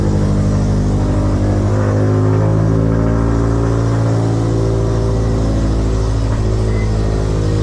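Loud tuned engine of a 2020 Subaru STI running close by at high revs, a continuous throbbing roar with slight rises and dips in pitch.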